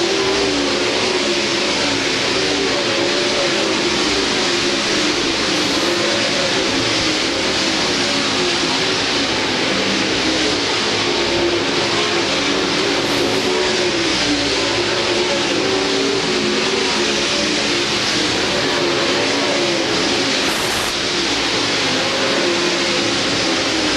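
Sprint cars racing at the Belleville High Banks dirt track, engines roaring continuously and loudly for the full stretch with surging revs as the pack circles, no voices over the din.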